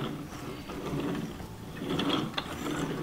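The ears of a Zoomer Zuppies robotic toy dog are moved back and forth by hand, and its internal mechanism gives a close, continuous grinding rattle of small clicks for about three seconds.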